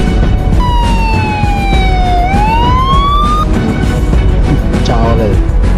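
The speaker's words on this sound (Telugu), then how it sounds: "అంబులెన్స్!" An ambulance siren wails once, dipping and then rising in pitch, heard against a loud, rough background, with a voice or two faintly present.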